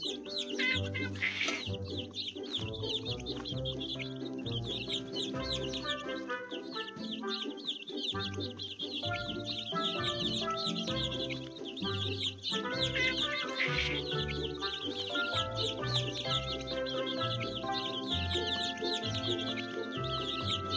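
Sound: hungry baby birds in a children's learning game

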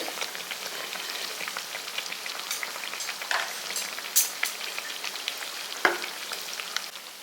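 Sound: kandarappam frying in oil, being flipped

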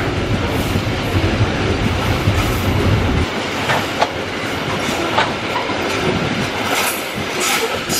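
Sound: long freight train passing

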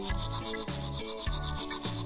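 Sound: scrubbing hands with a special brush

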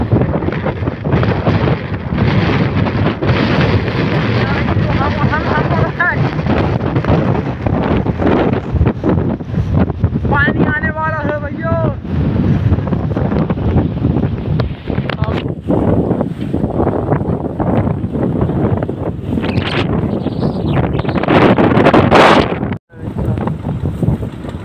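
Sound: strong dangerous wind

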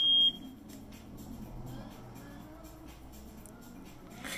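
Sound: Macurco CM-1XLS carbon monoxide detector self-test beeps

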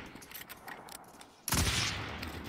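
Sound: gunfire in Call of Duty Warzone video game

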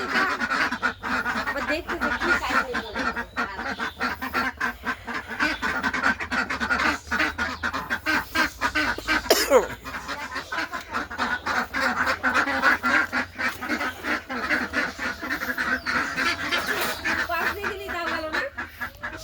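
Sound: pet bird, likely duck or goose, calling

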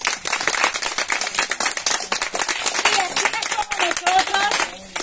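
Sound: audience clapping

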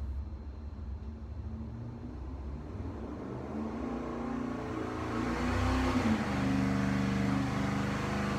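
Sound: car engine running on dyno with spark plugs

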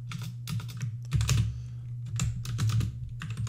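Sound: typing Python code on a computer keyboard

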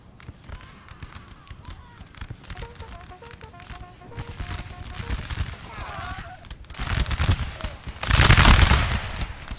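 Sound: musket volley fire in video game Napoleon Total War

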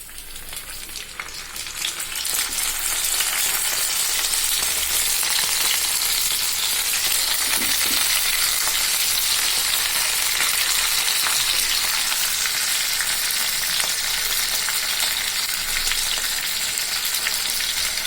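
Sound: salted hilsa paturi frying in frying pans

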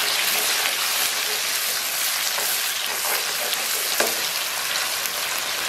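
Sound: stir-frying scallions and minced garlic for braised pork belly

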